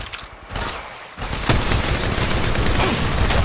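Dense, sustained gunfire from the Apex Legends Mobile battle royale game, sharp repeated shots rattling nearly continuously, loud and close, with a short lull before the volley intensifies.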